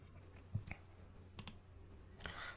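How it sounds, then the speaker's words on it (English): A single mouse click lands near the start, followed by a few more faint clicks against quiet room tone. "and I click save"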